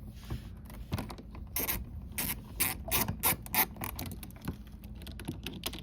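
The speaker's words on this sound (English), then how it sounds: "It's just 2 8mm bolts to remove this fuel valve." A hand ratchet works the two 8mm bolts holding the fuel valve on a Suzuki ATV, giving close, irregular bursts of sharp clicking and grinding with short pauses between them.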